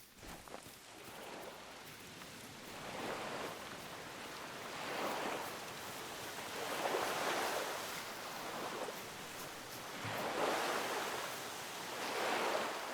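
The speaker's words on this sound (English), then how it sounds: "Oh, that's the beach. I was like, what the heck was that noise?" Surf from a beach in the video game Te Awaroa rolls in as broad, steady washes, each wave swelling and fading about every two to three seconds at a moderate, even distance.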